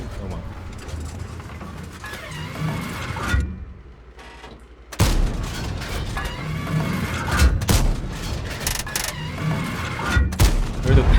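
Booming shots from a Swedish tier-10 Kranvagn heavy tank's gun in World of Tanks, a few loud blasts amid game rumble and clatter, with someone talking over much of it and a short quiet gap before a sudden heavy report.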